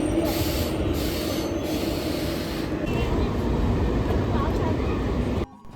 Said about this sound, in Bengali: আমাদের ট্রেনটি এই মুহূর্তে জ্ঞানদাস কান্দা স্টেশন ক্রস করছে।